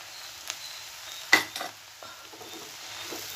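Spinach cooking in a pan with coconut, garlic and red chillies gives a faint sizzle broken by a sharp scrape and a few stirring clatters of a utensil against the pan.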